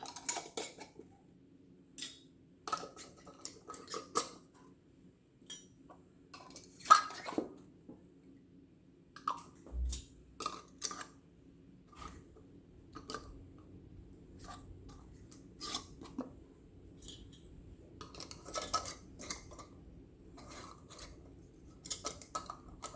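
Metal bands being screwed finger tight onto canning jars of potatoes: quiet, scattered metallic clicks, scrapes and clinks from the jars, in bursts and pauses close up, with no talking.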